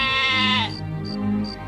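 A young goat bleats once in a long, wavering cry that breaks off, followed by soft short chirping sounds in a quiet setting.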